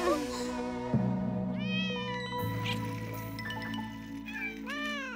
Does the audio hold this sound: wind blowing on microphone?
no